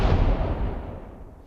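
A Korg Wavedrum gunshot or explosion preset struck on the rim, giving a single loud booming blast that starts sharply and decays over about a second and a half, heard alone.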